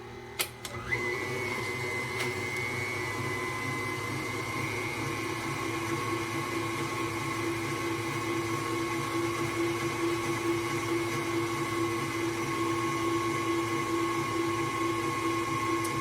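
An electric mixer blending banana cake batter for Dolly Parton's banana cake, a steady whirring motor drone with a high tonal whine, running close and continuously after a brief start, with no talk.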